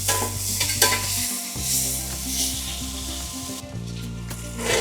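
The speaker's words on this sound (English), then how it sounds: "move those around in the pan, they'll render much faster." Onions frying in a pan for a smash burger, a steady close sizzle with a spatula pushing them around, over a constant low hum, no talk.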